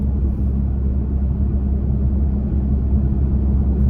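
Toyota Tacoma pickup with an aftermarket exhaust cruising steadily at 55 mph, giving a continuous deep low drone and road rumble with no breaks or revving.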